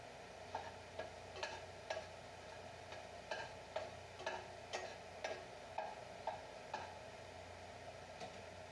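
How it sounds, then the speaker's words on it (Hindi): Chopped garlic stir-fried in oil in a pan, faint sizzling under a regular series of light clicks and scrapes as a spatula stirs, roughly one tap per half-second. "लहसुन को स्टर फ्राई करेंगे"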